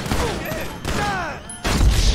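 Gunfire in Grand Theft Auto 5, with a couple of heavy booming shots rising over a busy bed of game sound and voices, the last burst landing loudly near the end.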